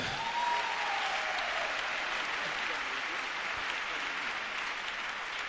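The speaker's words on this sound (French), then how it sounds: "Acclamons le Seigneur." A church congregation applauding in steady, dense clapping that carries through the whole stretch, with a voice faintly audible underneath.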